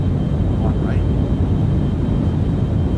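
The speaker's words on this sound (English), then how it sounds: "I'm just going to leave the engine running the whole time." A spacecraft engine in the Orbiter space simulator game runs as a steady, loud low rumble that fills the whole stretch without a break, like continuous jet thrust, with no talk over it.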